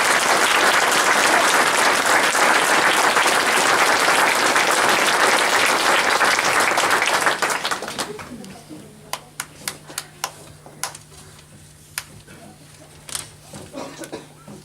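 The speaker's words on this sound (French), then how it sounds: "Et je vous demande de l'applaudir." Loud, dense audience applause at a mayor's New Year greetings event in Tursac, France, honoring René, lasting about seven and a half seconds before cutting off to a quiet room with scattered claps and clicks.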